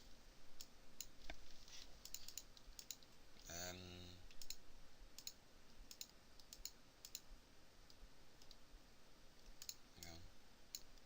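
Computer mouse clicking during use of studio design software, a scatter of faint, sharp single clicks spread irregularly across the stretch, with a voice speaking briefly in the background.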